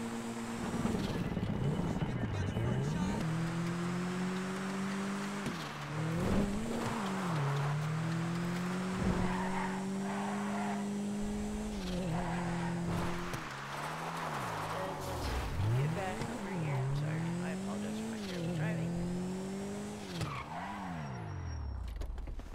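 Car in a video game, its engine revving up and down continuously with repeated gear shifts, tires squealing now and then, while a person talks over it.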